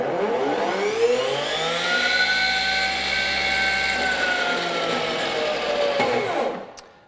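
Metabo HPT 36V MultiVolt brushless 10-inch table saw running with no material, a loud close whine of motor and blade with steady tonal harmonics that holds for several seconds, then winds down and fades at the end.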